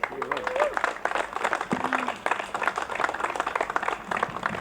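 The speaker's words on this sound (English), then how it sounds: "Give him a round of applause" A rally crowd applauds a community member introduced on stage, with uneven outdoor clapping mixed with voices and shouts, steady and moderately loud throughout.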